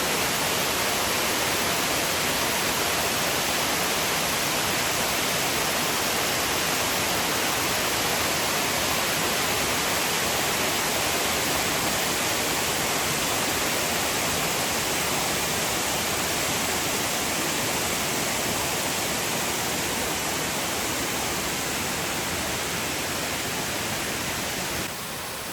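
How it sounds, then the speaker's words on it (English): A waterfall cascades down an entire hillside in a state park, a constant, loud, broadband rushing roar that stays steady and unbroken throughout, with no voices. "it's like this whole side of this hill is nothing but waterfall."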